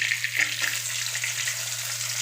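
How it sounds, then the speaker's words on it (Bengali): Chopped onion fries in hot oil for a Bengali doi katla fish curry, giving a close, continuous crackling sizzle with a few soft stirring knocks near the start. "এবার দিয়ে পেঁয়াজ কুচি"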